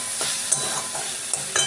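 Onion, tomato, green chilli, cashew and ginger are stirred while frying in a pan, a constant close sizzle punctuated by several sharp spatula scrapes and taps against the pan, with no one talking.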